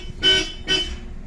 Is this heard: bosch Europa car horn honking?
yes